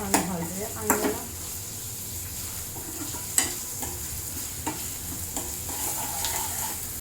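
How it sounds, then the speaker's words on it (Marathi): Chopped onion stir-fries in a pan, with a soft steady sizzle under intermittent scraping and clinking as a utensil stirs against the metal, each stroke sharp and close. "I'm going to stir fry this until the onion becomes translucent."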